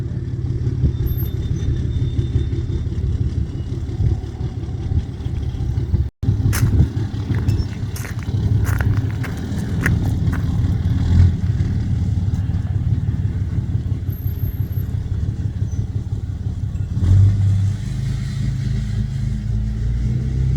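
A car engine rumbles steadily at close range, then is goosed with bursts of throttle that rise in pitch before settling back, with some clatter along the way.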